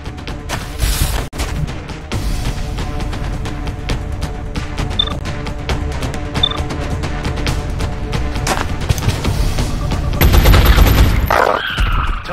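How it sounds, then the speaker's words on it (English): Bursts of gunfire and sharp impacts ring out in the XCOM: Enemy Unknown video game during a crash-site operation, with repeated loud shots and clicks and a heavier boom near the end. "Taking fire over here."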